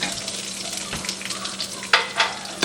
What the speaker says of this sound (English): now we're going to start off with sauteing some onions